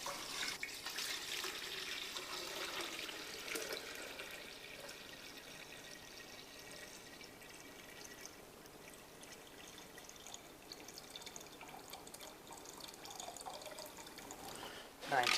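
Water is poured into a bucket sitting on a scale as a steady, fairly faint stream runs for several seconds and gradually softens, with quiet room noise around it.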